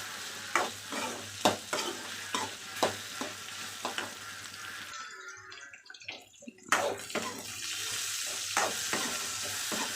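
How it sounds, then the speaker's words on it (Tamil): Okra stirred and sautéed in a pan for a Tamil kara kulambu, with a steady sizzle under repeated scraping spatula strokes and a brief quieter pause midway. "நல்லா வெண்டைக்காயை வணக்கிக்கலாம்."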